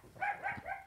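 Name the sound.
dog barking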